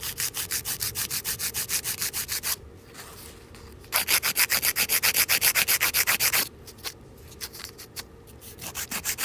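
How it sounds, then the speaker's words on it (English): Fingernails are shaped with an 80 grit hand file, a close, dry rasping in quick regular back-and-forth strokes, with short pauses and a louder, faster run in the middle. "my file is an 80 grit hand file from Carlash"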